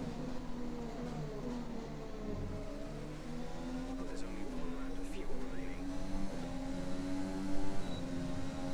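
A Formula 1 race car engine in the F1 2020 video game, revving through shifts and corners at Bahrain with a steady, fairly faint whine, while a voice talks over it.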